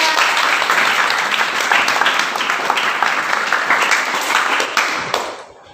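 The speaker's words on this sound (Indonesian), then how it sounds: "beri tepuk tangan untuk Mas Andrian" Sustained applause from an audience after a poetry reading in a teacher-training class, dense, steady clapping lasting several seconds before tapering off at the end.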